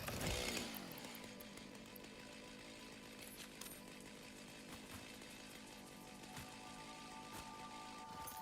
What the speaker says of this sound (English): Don't mind the chainsaw.